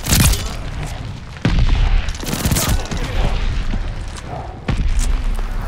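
Machine pistol gunfire in the video game Warzone comes as loud, close bursts of rapid shots separated by brief pauses.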